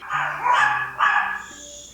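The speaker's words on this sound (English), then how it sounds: "Dogs." Dogs bark loudly and close by, giving three sharp barks in quick succession with a short whine, and nobody talks.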